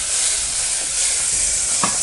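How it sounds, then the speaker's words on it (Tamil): Tomatoes sautéing in a pan while making onion-garlic sambar: a steady close sizzle runs throughout, with a brief scrape of stirring near the end. "நம்ம தக்காளி அடுத்தது போட்டுக்கலாம். நல்லா வதக்கிட்டோம். தக்காளி ஆட் பண்ணிக்கலாம்."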